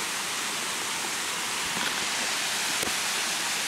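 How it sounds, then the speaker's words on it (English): A waterfall in a lush hidden oasis pours with a steady, loud, broadband roar that holds unbroken throughout, with no voices over it. "So here's the waterfall, guys. And it is a stonker."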